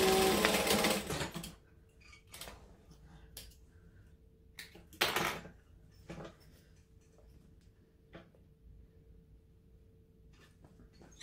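A sewing machine stitches a pocket shut on a clutch bag, with a fast rattling run at the start and a short burst midway, then scattered quiet taps and clicks, all fairly soft and close.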